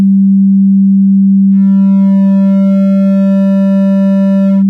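A steady 196 Hz test tone plays loud and unbroken through a 2-inch mini-subwoofer driver in a small cabinet, with buzzing overtones joining partway as the driver strains well above its comfortable range.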